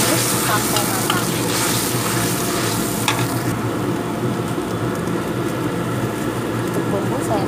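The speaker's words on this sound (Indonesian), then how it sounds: "Daun salam dan serai, juga daun jeruknya saya masukkan bersamaan. Saya akan tumis sampai matang." Bay leaves, lemongrass and lime leaves sauté in a hot pan for ayam rica rica, giving a steady close sizzle with scraping stirs, a busy hiss that eases slightly partway through.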